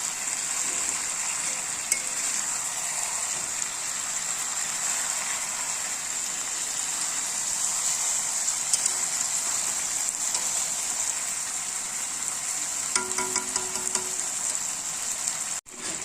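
Puti fish chorchori fries in a pan, giving a steady, fairly loud sizzle with a bright hiss that holds throughout, plus a few light stirring clinks near the end.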